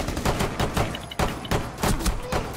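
Rapid bursts of gunfire from the video game Rainbow Six Siege in ranked play, several quick volleys of close, sharp shots in an uneven rhythm, with no talking over them.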